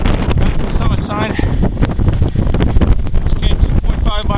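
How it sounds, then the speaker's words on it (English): Strong wind battering the microphone on the winter summit of Mount Jackson, a loud continuous roar and buffeting throughout with no pauses. "it is quite windy and really freaking cold and windy"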